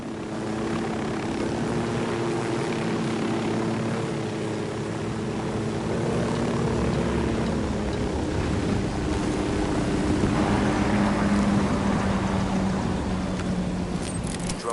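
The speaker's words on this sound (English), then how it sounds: "Drone is airborne." A surveillance drone lifts off and flies in a PS4 tactical shooter, its buzzing propeller whine holding steady and fairly loud for the whole stretch over a layered, noisy game backdrop.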